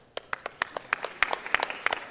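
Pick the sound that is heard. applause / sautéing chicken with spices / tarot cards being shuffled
applause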